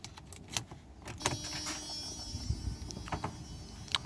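Electronic throttle bodies from a Mercedes 600SL whirring through their learning cycle, a thin motor whine rising and holding for a couple of seconds among soft mechanical clicks and ticks, close up.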